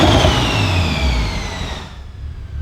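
A single-turbo BMW M3 F80 with an S55 engine revs with its Valvetronic exhaust valves closed, a loud rising roar carrying a turbo whine that fades quickly into a quieter tail.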